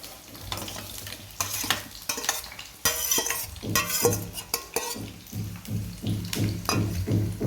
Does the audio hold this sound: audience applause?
no